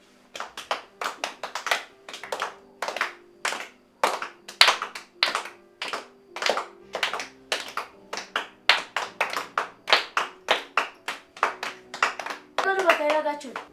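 A group claps hands together in a fast, steady rhythm, loud and close, sustained throughout with a brief voice at the end.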